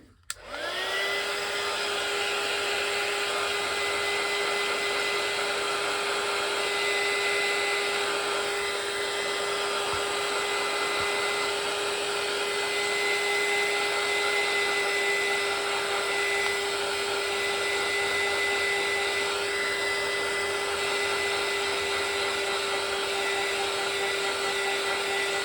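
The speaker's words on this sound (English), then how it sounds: "Just get the dryer." Hair dryer drying watercolour paint on a calico bag, a loud, steady whirring hum that starts abruptly and runs unbroken for about 25 seconds.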